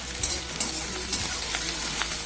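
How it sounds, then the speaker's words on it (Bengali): Chopped onions frying in a pan over a medium gas flame, giving a steady, close sizzle that runs throughout, with a few faint stirring clicks on top. "কয়েক সেকেন্ড পেঁয়াজটা ভেজে নিই, তারপরে অন্যান্য সবজি দেব।"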